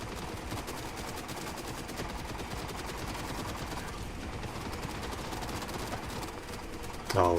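A heavy machine gun emplacement in a video game fires a continuous, rapid, steady stream of loud shots, with a slightly heavier burst right at the end.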